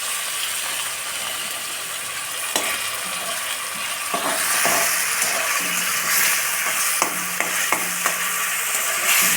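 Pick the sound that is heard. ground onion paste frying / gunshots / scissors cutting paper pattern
ground onion paste frying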